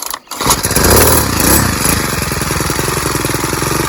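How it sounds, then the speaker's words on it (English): A Craftsman C410 30cc 4-cycle tiller engine catches after a brief pause, then runs with a loud, steady, close-up drone that holds at a constant level. "let's cut it on and see how it tillers"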